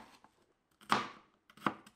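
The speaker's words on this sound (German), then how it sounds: "schnippel ich schon mal die Zwiebel." A knife chops an onion on a board for ground-beef cooking, two sharp close strikes about 0.7 s apart, with a faint tap before them and quiet between.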